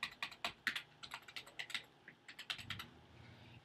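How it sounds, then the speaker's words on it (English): Rapid, uneven keystrokes clatter on a computer keyboard, close and fairly quiet, with brief pauses between bursts of typing and no talking. "we're going to start by typing in the target URL"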